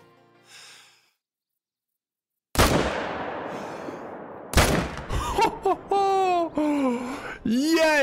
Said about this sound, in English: First shot smoked him, the second shot dropped him.